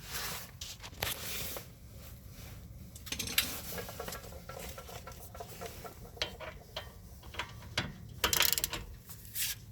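Ratchet socket wrench tightening a sway bar link on a Honda Pilot, a rapid clicking pawl ratchet working in bursts close up, with scattered metallic knocks and clunks around it and no talk.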